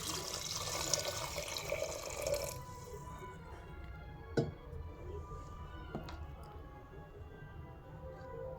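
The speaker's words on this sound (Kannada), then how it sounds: "ವಾಶ್ ಮಾಡ್ಕೊಂಡಾದ್ಮೇಲೆ ಅದು ಬೇಯಕ್ಕೆ ಎಷ್ಟು ಬೇಕೋ ಅಷ್ಟು ನೀರು" Tap water runs briefly into a pot for cooking beetroot sambar, a splashy fill that stops after a couple of seconds, followed by quiet kitchen room tone with a few faint clinks and taps.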